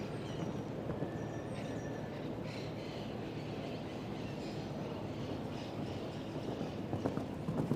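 A nine-year-old stallion jumps a show jumping round at a Nations Cup final. The hoofbeats are distant and muffled, set within a broad arena ambience, with the clatter growing a little near the end.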